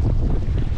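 Strong wind buffets the microphone on a rocky headland by deep water at Weipa on Cape York, a steady, loud low roar of gusts with water in the background throughout.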